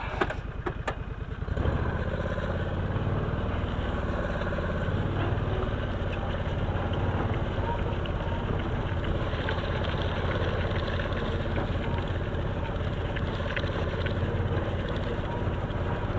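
A Gator utility vehicle drives across pasture while running out poly wire fencing, its engine giving a steady, continuous drone close by after a brief rougher start, with no talking.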